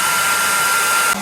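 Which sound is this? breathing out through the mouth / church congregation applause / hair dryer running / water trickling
hair dryer running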